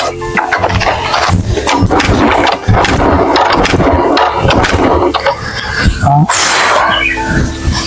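A vehicle engine cranks and starts, then runs loud and rough with uneven revs and squeaks, while people talk over it.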